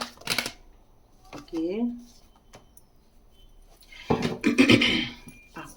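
Tarot cards shuffled for a reading, heard as a few brief papery bursts near the start and a denser rustle near the end, with a voice talking in between.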